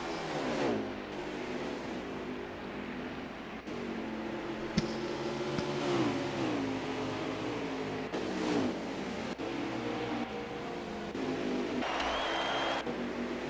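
Race cars at the Iowa track scream past at full revs during a Fast Family National Series race, engines rising and falling as several cars pass close by in quick succession, with no voices.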